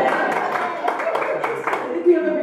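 At a stand-up comedy show a crowd cheers and applauds in a continuous roar of shouting voices with light clapping mixed in.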